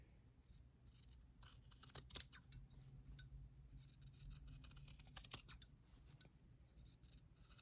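Scissors snip off the small corners of quilt fabric squares, a run of sharp, close metallic clicks and cuts at an uneven pace over a low background hum.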